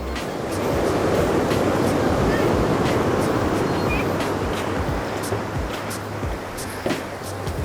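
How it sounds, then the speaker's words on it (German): Loud sea waves at a beach in Gazipaşa, Turkey, a constant roaring wash of surf with gusts of wind buffeting the microphone, near and dominant throughout. "weil die Wellen wirklich enorm laut sind"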